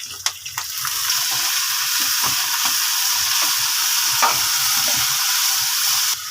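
Capsicum and long-sliced green chillies frying in a pan with oil, a loud continuous close sizzle with a few stirring knocks and scrapes.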